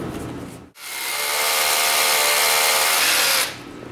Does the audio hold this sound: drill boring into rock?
yes